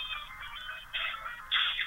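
Phone ringtone playing a snippet of a song, a tinny, bright melody from a cell phone speaker swelling in short phrases, getting louder toward the end, with no talking.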